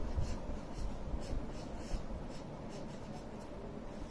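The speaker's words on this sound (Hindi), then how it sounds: "इस क्रियाकलाप को करने के लिए हम इस ड्राइंग शीट पर कुछ लिख कर देखते हैं" Pen or marker writing across a drawing sheet in a classroom demonstration, a steady soft scratching that continues for the whole stretch at low level with no talk.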